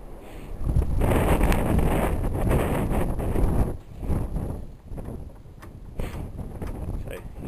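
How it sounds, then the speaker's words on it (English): Wind gusts outdoors buffet the microphone in loud, rumbling surges that rise and fall, dropping away briefly before returning, beside an engine being restored. "The wind's getting up a bit now."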